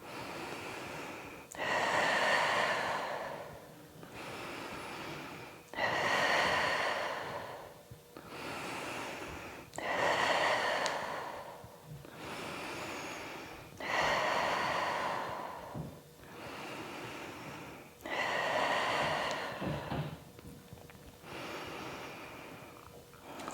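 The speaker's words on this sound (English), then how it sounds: "you would inhale down, exhale," Slow, steady breathing during a core breathing exercise, long audible inhales and exhales alternating in a regular rhythm, close and fairly soft, with no talking.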